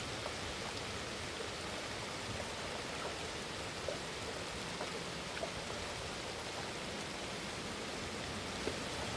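Steady rain falls in a soft, even hiss, with occasional faint drips standing out, quiet and continuous with no voices.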